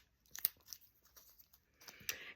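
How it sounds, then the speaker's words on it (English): Medical tape being unwound and peeled off a soft splint, with quiet, close crinkling and short tearing rips in scattered bursts, ending in a louder strip pulled away. "we're going to unwrap and take off all of this tape here"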